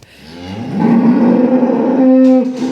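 A farm cow moos in one long, loud, drawn-out bellow that rises and holds steady close by, with no voices over it.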